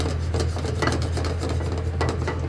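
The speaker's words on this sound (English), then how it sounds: "And as I'm adding the butter, you just need to continuously stir" A spoon stirring butter into barbecue shrimp sauce in a pan, a soft, continuous scraping and swishing with light rhythmic strokes over a low kitchen hum.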